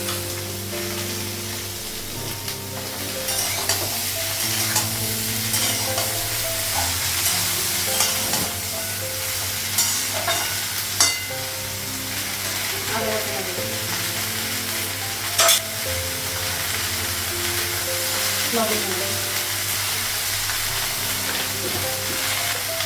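Green banana, soy chunks and vegetables fry in a wok, a steady close sizzle with repeated scraping stirs and utensil clicks throughout over a low background hum.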